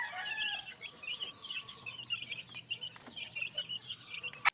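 Chicks on a game farm eating wet feed, with busy chirping and soft clucking peeps scattered over faint pecking and rustling, nearby at moderate volume.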